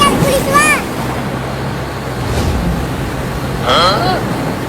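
Rising floodwater in a cartoon gives a continuous washing, surf-like rush, while high cartoon voices speak over it at the start and near the end.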